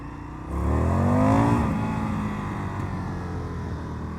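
Indian FTR 1200 motorcycle engine pulling away and accelerating at low speed, a rising harmonic drone that climbs over about a second, then settles into a steady nearby rumble.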